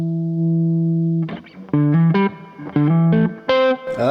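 An Arrow Les Paul style electric guitar played through distortion, first one sustained chord that rings out, then a quick choppy run of loud, saturated notes and stabs, with no voice over it.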